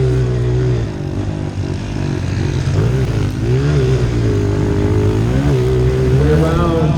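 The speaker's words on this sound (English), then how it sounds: "Way around to complete the lap number 1 is going to be the 11 of Phil Smiles" Trail pit bikes race around a county fair race park track, their small engines buzzing loudly and steadily with rising and falling revs as they pass close by.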